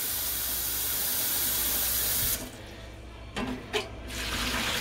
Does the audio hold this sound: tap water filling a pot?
yes